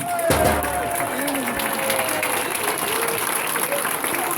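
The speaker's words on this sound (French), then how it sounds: "Vous pouvez les applaudir et vous asseoir" Audience applause for a newlywed couple at a mock wedding during a town festival, a broad wash of clapping through the whole stretch, with voices and a melodic line audible over it.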